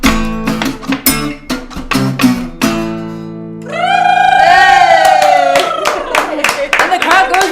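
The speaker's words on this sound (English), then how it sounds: "And the crowd goes wild." A crowd erupts into loud cheering and whooping right after a song performance ends, with high excited voices and scattered clapping filling the last few seconds.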